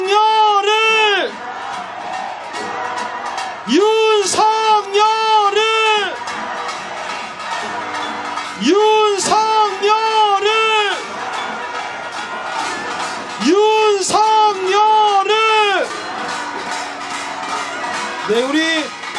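Protest marchers in Seoul rally toward the presidential residence, demanding President Yoon Suk Yeol's impeachment: an amplified voice leads loud rhythmic call-and-response chants, with the crowd shouting back in repeated bursts over a steady background din.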